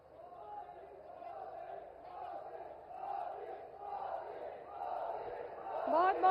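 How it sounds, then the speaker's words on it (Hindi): A large crowd at a Bihar election rally in Chapra addressed by PM Modi applauds and cheers in a steady roar that swells louder near the end. "आप सबको एक बार तालियों के साथ धूमल जी का आप लोग स्वागत करें।"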